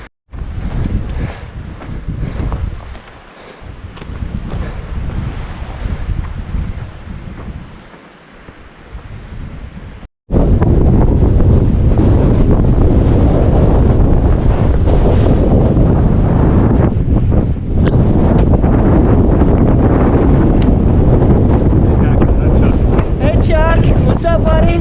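Strong gusting wind on an exposed Huachuca Mountains hike, roaring across the microphone in loud, continuous buffeting that becomes heavier and more constant partway through, with occasional talk.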